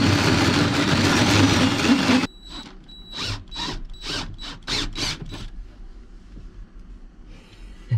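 A power drill bores a hole through the metal floor of a tractor, grinding loudly for about two seconds. A series of short ratcheting bursts and clicks follows, close by in a quiet space.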